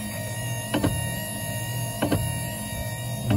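A steady Nissan LEAF wiper motor whir in a classic VW, with a repeated knock of the linkage hitting a clamp at regular intervals, about once every 1.3 seconds.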